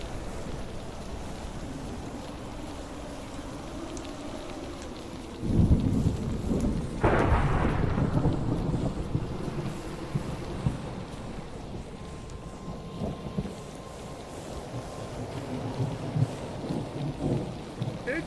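Wind and storm roar in the Minecraft TerraFirmaCraft Hardrock modpack: a low, steady rushing bed that swells into a heavier, louder rumbling gust partway through, then settles back to a constant blustery hiss.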